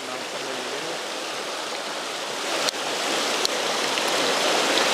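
Little Sugar River in Sullivan County, New Hampshire, flowing in the woods: a steady, broad rushing wash of water, close and continuous, with a couple of faint clicks and no talking.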